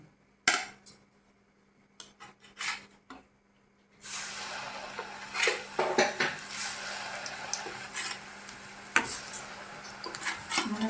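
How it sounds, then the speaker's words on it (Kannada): Spices tempering in a pan: sparse metallic clinks and taps of a spoon against the pan open the clip, then a steady sizzle rises under repeated scraping and stirring knocks. "ಒಗ್ಗರಣೆ ಮಾಡ್ತೀನಿ"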